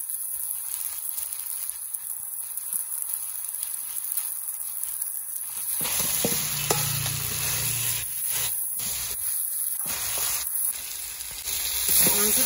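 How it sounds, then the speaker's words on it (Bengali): Meat cooks in a pot over a wood fire as fried potatoes go in. A steady, close sizzling hiss runs throughout, with stirring and scraping sounds joining in the second half. "এবার ভাজা আলুগুলো দিয়ে দেবো।"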